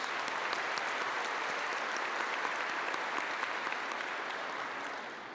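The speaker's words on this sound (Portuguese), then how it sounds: "Uma salva de palmas à palavra de Deus." A congregation in a shrine church claps steadily and densely throughout, a sustained round of applause that tapers slightly at the close.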